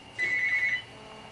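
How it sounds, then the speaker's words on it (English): A telephone rings once indoors: a single short electronic trill, moderately faint, lasting about half a second against quiet room tone. "Answer the damn phone!"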